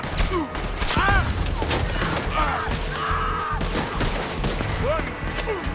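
Gunfire in a PS4 shooter, rapid volleys of shots and thuds mixed with whooshing effects and shouted voices, loud and dense throughout.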